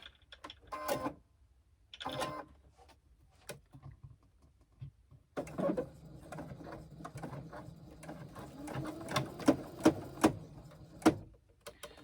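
A home sewing machine top stitching with a longer stitch length, running in a steady mechanical whir from about five seconds onward after a few short starts, with sharper clicks toward the end.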